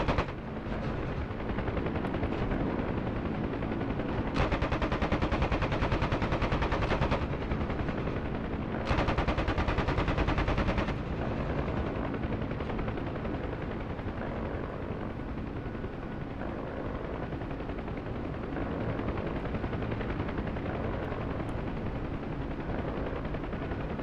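Helicopter door gunner machine gun fire in DCS World, long continuous bursts of heavy automatic fire over the steady drone of a helicopter, loud and close, with brief pauses between bursts.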